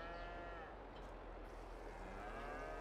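Cows mooing in the Farming Simulator 22 video game, long drawn-out lowing calls at the start and again near the end, set against a steady low engine-like hum.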